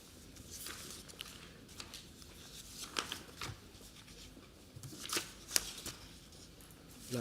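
Sheets of paper rustle and shuffle during a hearing at the French National Assembly, with soft continuous handling and a few sharper crinkles, close and moderately loud, with no speech.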